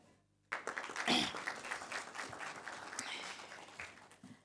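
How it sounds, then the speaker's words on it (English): An audience at a research symposium breaks into applause for the first presenter, the clapping starting abruptly after a brief hush and continuing as a steady, fairly distant patter of many hands. "can we please give a huge round of applause"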